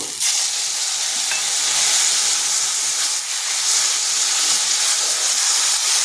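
Mourala fish and taro stems fry in a pan with spices, giving a loud, continuous sizzle and hiss with faint stirring scrapes throughout.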